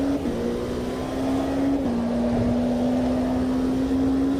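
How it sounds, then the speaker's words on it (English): Race car engine in Automobilista 2 held at high revs, a steady sustained drone over the full stretch with a slight dip in pitch partway, loud and continuous with no talk. "Yeah, I am over revving a little bit, aren't I?"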